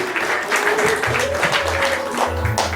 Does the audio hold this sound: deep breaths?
no